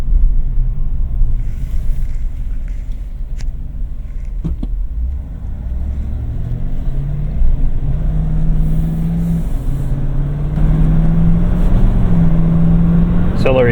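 A 2025 Chevy Silverado LT Trail Boss pickup engine accelerates from inside the cab, a steady low rumble whose pitch climbs smoothly through the gears over road noise, with no speech.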